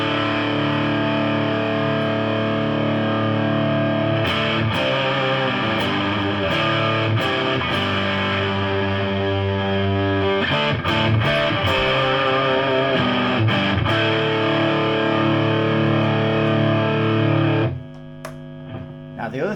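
A guitar played through the distortion channel of a Hiwatt Trinity 100 watt head: a dense, saturated, sustained chord-driven tone, loud and continuous, dropping away abruptly near the end.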